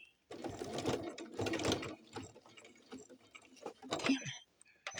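A domestic sewing machine stitching doll slacks: close, uneven bursts of rapid mechanical stitching with brief stops in between, fairly quiet overall.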